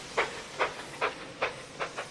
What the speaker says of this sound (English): And Mighty Mac chuffed off.